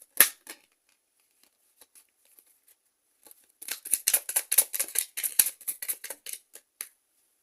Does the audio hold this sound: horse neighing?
no